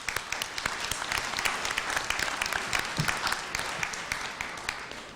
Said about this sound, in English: Do you want to give him a round of applause?